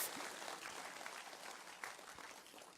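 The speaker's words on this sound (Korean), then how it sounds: "박수 한번 쳐주십시오." An audience at a political lecture claps together in steady, dense applause that lasts the whole clip, heard at a moderate distance in a hall, with no voices over it.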